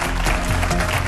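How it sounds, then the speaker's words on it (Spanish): Studio audience applause on a Spanish TV comedy news show, a dense steady wash of clapping filling the whole moment at even loudness. "Un fuerte aplauso para él."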